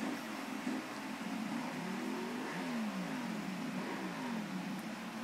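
A big Monster motorcycle engine revs at night, a steady loud mid-pitched drone with rising and falling harmonic sweeps as the throttle opens and eases, continuous and close.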